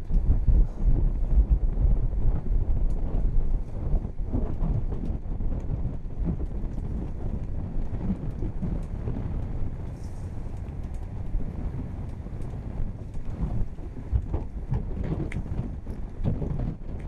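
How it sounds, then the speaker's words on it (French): Strong headwind roars and buffets the microphone without letup, with a low rumble of a sailing boat beneath it and no speech, at sea near the channel into Bonifacio harbour, Corsica. "on a un vent de face"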